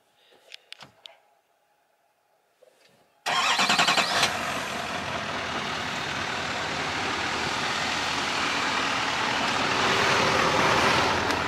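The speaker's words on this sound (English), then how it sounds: "Let me start her up." A stock 2020 GMC Denali HD pickup on 37-inch tires cranks and fires up, a brief quiet lead-in with faint clicks giving way to a loud, steady diesel-like idle rumble that holds through to the end.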